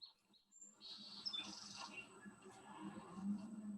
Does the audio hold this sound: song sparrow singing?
yes